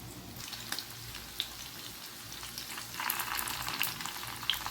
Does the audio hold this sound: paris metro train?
no